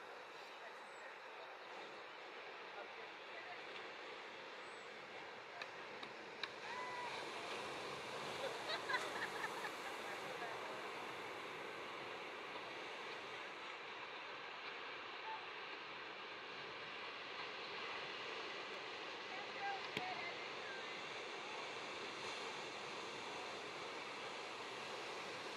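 At Salt Creek beach, ocean waves break and wash in a continuous, distant roar of surf, broad and steady with slight swells in loudness over many seconds.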